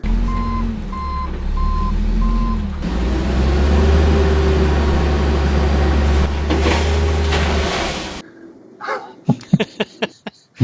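Truck reversing beeps sound in a short series of sharp, evenly spaced tones, loud and close, following a stretch of dense, noisy rumble.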